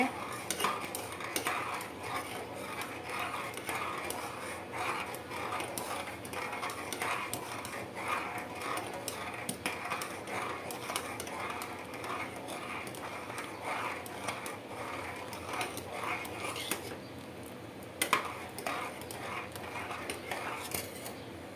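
Metal spoon stirring sugar as it melts into caramel in a pot, a steady run of scraping and clinking against the pan for about twenty seconds, close by with no voices.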